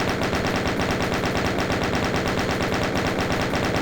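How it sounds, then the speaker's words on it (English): Chain gun firing in Doom 2, a continuous rapid, evenly spaced stream of loud shots with no pause for the whole stretch. "Swap over to your chain gun"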